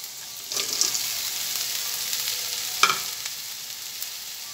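Bitter gourd slices hit a hot pan with boiled potato, bursting into a bright hiss that settles into steady sizzling, with a second flare of spattering a couple of seconds later as the pieces are stirred.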